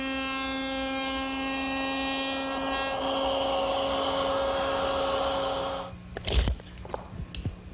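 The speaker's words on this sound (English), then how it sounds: "We'll make those at the router table." Router table with a 3/4 inch bit cutting a dado in wood: a loud steady high whine for about six seconds that cuts off abruptly, followed by a few knocks and clatters.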